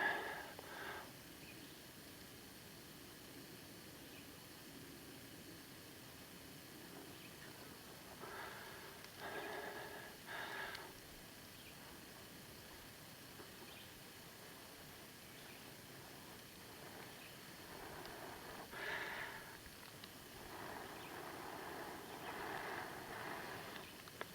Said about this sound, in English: Slowly cup it. You want to kind of scoot everything around it a little bit, and then just start blowing on it.